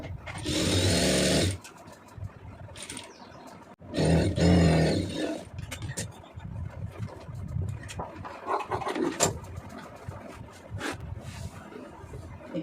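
A sewing machine stitches two boat neck pieces onto canvas in loud, steady whirring runs, stopping and starting several times, with quieter rattling and handling between bursts.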